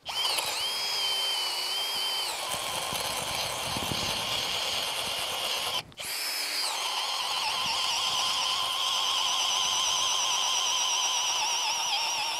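A power drill with a 32 mm spade bit bores into a wooden log for a rocket stove, whining steadily and loudly close by, briefly cut off near the middle before resuming its sustained drone.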